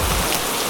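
Rain falling steadily, a dense close hiss of drops striking a surface, loud and continuous through a brief moment with no voices.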